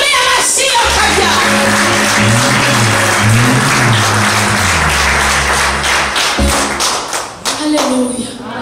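A church congregation claps loudly together in a dense, continuous burst, with sustained singing or voices running underneath throughout.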